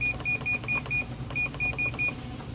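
A treadmill gives a series of short, bright electronic beeps as its speed is set, evenly spaced in two quick runs over a low motor hum. No one speaks.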